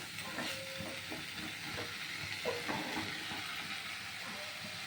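Pumpkin leaf bharta mixture being stirred in a kadai, with a steady sizzle under scattered scraping strokes of the spoon against the pan, fairly close and moderate in level.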